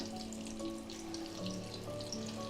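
Cheese corn pakoras frying in hot oil over a medium flame, a soft steady sizzle and crackle that holds faint and even for a couple of seconds with no talking.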